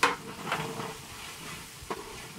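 A spice paste of ground garlic, cumin and ginger with salt and green chili fries softly in a pan for shrimp tehari, a faint steady sizzle broken by a couple of brief stirring scrapes.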